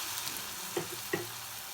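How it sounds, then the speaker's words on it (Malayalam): Carrots frying in hot oil in a pan, a steady soft sizzle with two brief louder crackles or stirring clinks, close and moderately quiet, with no talking. "അപ്പം നമ്മളെ ക്യാരറ്റ് പൊരിയട്ടെന്ന്."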